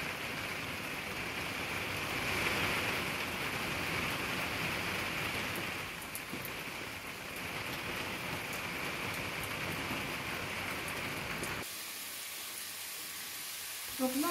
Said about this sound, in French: donc là, il pleut vraiment très fort.